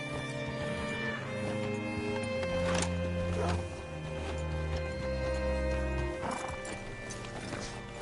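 A horse in Red Dead Redemption 2 on PS4 whinnies over steady clip-clopping hooves, with a second neigh later and a continuous musical background underneath.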